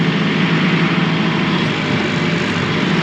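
A Kioti RX7320PB tractor engine runs with a loud, steady, even drone close by, without any change in pace and with no one talking.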